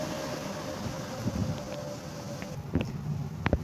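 Wind blows outdoors around potted succulents and flowers, a steady broadband rush with a few faint knocks and clicks toward the end; no one speaks.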